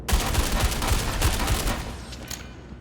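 Killshot assault rifle fire in the video game Star Citizen: a loud, close burst of about eight rapid rounds at a steady rhythm, then a fading tail.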